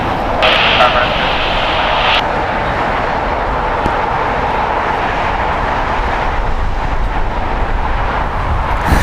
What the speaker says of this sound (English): This is Air Tinui Flight 8 coming in from PPT. It's a 7-hour, 36-minute flight on a Boeing 787-9 Dreamliner